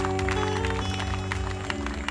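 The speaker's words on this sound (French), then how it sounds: "Applaudis bon Dieu, non" Evangelistic campaign congregation clapping in rhythm, a dense steady patter of hands under sustained music and singing.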